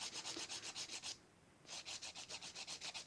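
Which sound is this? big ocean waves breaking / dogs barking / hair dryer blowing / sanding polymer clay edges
sanding polymer clay edges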